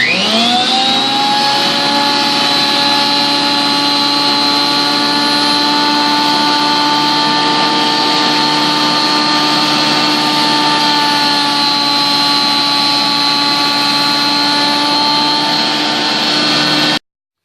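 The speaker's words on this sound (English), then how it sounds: "Just run it through the planer, just like this" Wood planer cutting through a board for home beer brewing, a steady loud motor whine with a sustained even tone held for the whole stretch after a brief spin-up, no voices.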